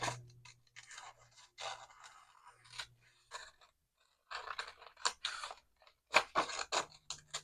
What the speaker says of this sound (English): Just do my rough little outline and then cut this shape out.